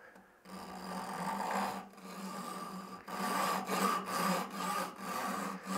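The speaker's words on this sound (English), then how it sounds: "I'm going to use my Japanese back saw here" Fine-toothed Japanese back saw cutting during an old rusty hammer restoration, steady back-and-forth strokes in a clear repeating rhythm, close and moderately loud.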